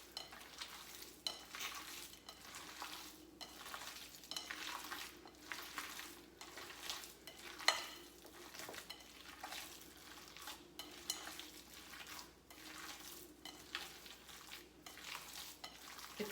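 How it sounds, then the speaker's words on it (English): Hands squish and knead a meatball mixture with cottage cheese and Parmesan in a bowl, giving soft, rhythmic, repeated wet squelches at a quiet, close level with no talking. "let's get all this mixed up and incorporated together"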